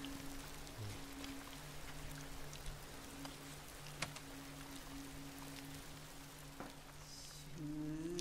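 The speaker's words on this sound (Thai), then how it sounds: "ฝนหยุดตกทันทีเลย" Steady rain falling in Ghost of Tsushima, a soft continuous patter with a low background hum, a few brief clicks, and a faint tonal sound near the end.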